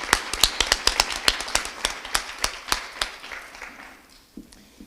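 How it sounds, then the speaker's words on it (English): An audience at an MLK Jr. annual breakfast celebration gives sparse applause: a small scattering of separate, sharp claps spaced across a few seconds that thins out and fades near the end. "let's give her another applause for supporting us today"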